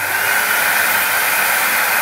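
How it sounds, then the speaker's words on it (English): An air track blower in a school physics lab runs with a steady, loud, close whooshing roar that stays even from start to finish. "turn the blower on"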